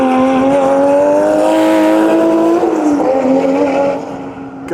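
A Nissan Skyline R34 GT-R time attack car screams past on a private circuit in Japan, its loud, high-revving engine note rising as it approaches, then dropping in pitch and fading slightly as it goes by, with no talk.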